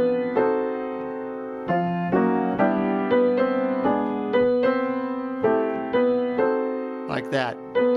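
Jazz piano plays short fill figures in the style of a ballad accompaniment, distinct chord strikes and melodic runs in a steady, spaced rhythm, heard clearly alone and close.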